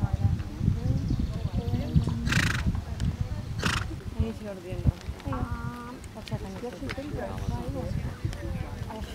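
At an outdoor horse show, horses snort and whinny over a steady crowd murmur, with two sharp neighs standing out, while people talk continuously nearby.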